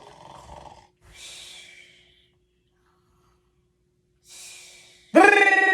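Snoring rendered by a voice in a children's cartoon: two slow breathy cycles of rasping inhales and hissing exhales separated by a pause, then a loud bright tone bursts in at the end.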